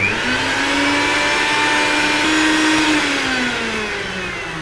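Mixer grinder blending dates with about half a glass of water for kheer, a steady loud motor whine with slowly shifting pitch running throughout, no talking.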